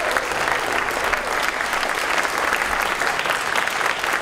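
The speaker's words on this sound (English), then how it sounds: "Big round of applause for all you guys coming out." Dense, steady applause from a student audience gathered for a political campaign visit, a continuous wash of many hands clapping at close range.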